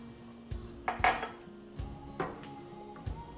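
Several clanks and clatters of metal cookware, as if things are tipped into a pot, with quiet gaps between the knocks and no talking.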